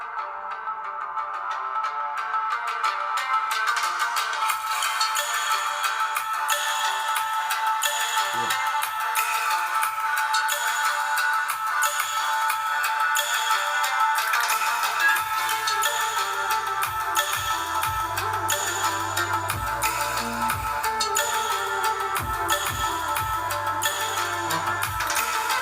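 NCS electronic music played through an ordinary inexpensive tweeter, thin and treble-heavy with a steady beat, heard alone with no talking and low bass entering partway through.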